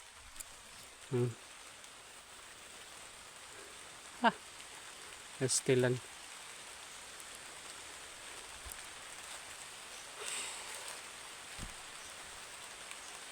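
Steady rain hisses softly throughout, with a few brief spoken words and small knocks breaking through now and then.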